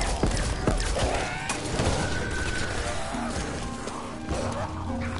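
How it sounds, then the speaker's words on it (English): Ray gun fire in Call of Duty Zombies, a rapid series of sharp blasts and thuds mixed with crashes and game effects, loud and close, with some overlapping talk. "I'll hit fire ray gun."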